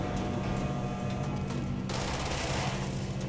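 Rapid automatic gunfire in the video game Control, a dense, loud continuous burst of shots that shifts to a harsher, brighter volley partway through, with no talking.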